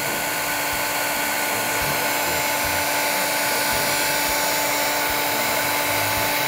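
A loud, steady blowing whine of a heat gun aimed at a craft tin runs without pause, with a constant high-pitched hum and faint rattles underneath.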